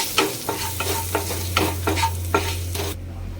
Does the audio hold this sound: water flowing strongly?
no